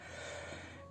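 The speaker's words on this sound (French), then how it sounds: "si vous entendez ronfler derrière moi, c'est mon pauvre petit chat" A sick cat with cat flu snores through a congested nose, giving a steady, low, rattling snort with a faint wheeze, continuous and close through the whole moment, with no talking.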